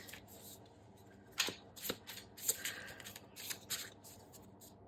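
Tarot cards shuffled and drawn by hand, soft papery riffles and flicks in uneven bursts with a few sharper snaps, close and quiet, with no speech.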